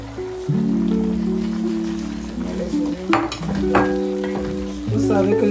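Chopped onion hits hot oil in a pan while cooking gizzards, giving a steady close sizzle with scattered crackles and a few clinks of utensils, under a low sustained hum and no speech.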